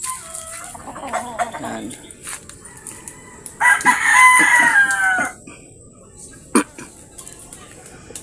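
Free-ranging hens cluck intermittently on a Filipino farm, and a rooster crows once loudly in the middle, with someone speaking briefly nearby amid soft outdoor background noise.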